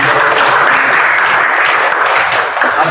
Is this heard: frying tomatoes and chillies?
no